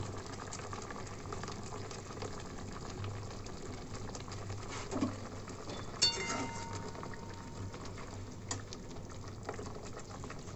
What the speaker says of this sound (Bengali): এবার ফুটে উঠেছে, আমি একটু কাঁচা তেল ছড়িয়ে